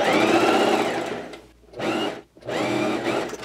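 Sewing machine topstitching the lining of a summer dress, running in three loud, close bursts of rapid mechanical stitching, separated by short pauses.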